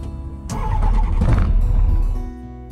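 A Skyranger microlight's propeller engine cranks and catches on the tarmac at Breighton Airfield, bursting into a loud, rough roar that holds steady for about two seconds before dropping away.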